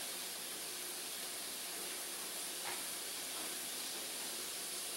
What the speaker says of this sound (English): It's sizzling really well.